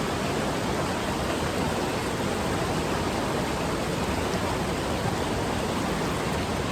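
Holland Creek rushes loudly past during a rainy hike, a dense, unbroken roar of flowing water heard up close and alone, with no voices.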